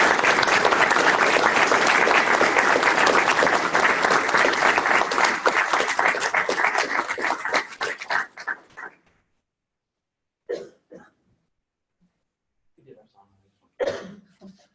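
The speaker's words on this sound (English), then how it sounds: "Could we clap for Bill now?" Audience at an annual gathering's evening plenary session claps loudly and steadily for about eight seconds, then the applause tapers off into near silence broken by a few coughs and throat clearings.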